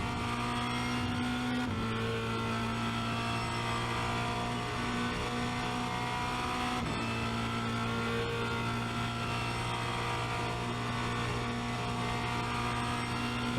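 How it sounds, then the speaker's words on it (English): A Formula Renault 2.0 race car held at full throttle down a straight at Spa-Francorchamps, with a steady, loud engine drone heard from onboard, a brief pitch shift as it runs flat out, and no talking. "And this is that back straight that's all throttle."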